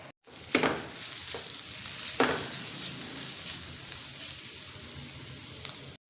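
Boiled chicken, seasoned with salt and black pepper, sizzles and fries with softened onions in a pan, a steady close hiss with a couple of sharp stir clatters early on and no talking.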